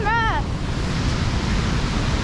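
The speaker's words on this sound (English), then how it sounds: "It's slippery and the waterfall's very loud." A loud waterfall in Yosemite National Park roars as a steady, dense wash of rushing water close at hand. A short voice-like sound rises over the start, and the roar continues unbroken.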